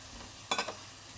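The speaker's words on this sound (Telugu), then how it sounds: "ఇందులోకి టొమాటో కూడా వేసేద్దాము ఎండుమిర్చి టొమాటో కూడా వేసేయచ్చు" Tomatoes and dried red chillies drop into a hot pan of methi tomato curry, giving a short burst of sizzle with a couple of quick crackling pulses over a low steady hiss.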